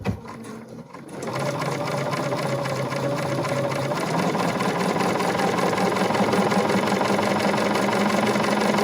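BERNINA sewing machine with Edgestitch Foot #10 stitching in the ditch, guided by a stiletto: after a brief quiet start it whirs up into a loud, steady, continuous rapid mechanical stitching drone, close up with no talk.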